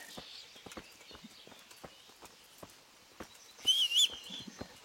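Hooves clip-clop in a steady, irregular rhythm at moderate distance, with a sharp whistle cutting in briefly near the end.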